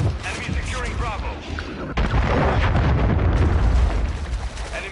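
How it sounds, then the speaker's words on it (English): A cruise missile strike in Call of Duty MW3 multiplayer, a loud, dense rumbling blast that swells and sustains for several seconds with crackling debris and game sound mixed in. "Hostile launched the cruise missile."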